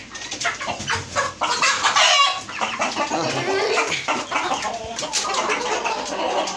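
Tiger breed hens and a rooster cluck and squawk busily at close range, with the hen pecking at others; overlapping calls and scuffling noises continue throughout with little talk.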